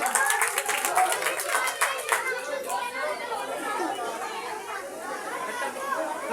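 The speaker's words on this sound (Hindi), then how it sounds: "बेटी के लिए जोरदार तालियां।" An audience claps for children at a school program marking 14 August, a burst of applause in the first seconds that fades into lively crowd chatter and children's voices.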